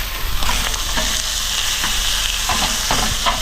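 Chanterelle mushrooms fry in a pan on medium-high heat with a loud, steady sizzle close by, and a spatula stirs them with soft scraping at intervals. No one talks.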